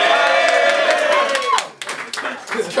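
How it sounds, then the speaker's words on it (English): Crowd at a rap battle event clapping and cheering loudly, a dense burst of applause mixed with shouts that thins out toward the end. "everybody give me a round of applause for stepping up at the last minute"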